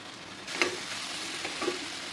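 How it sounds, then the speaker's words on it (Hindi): Tomato masala with cardamom for butter chicken sautéing in a pan, a soft continuous sizzle broken by two brief scrapes of a spoon stirring. "अब हम इसे अच्छे से मिक्स करके सॉटे कर लेंगे, अच्छे से मसाला पूरा भून लेंगे"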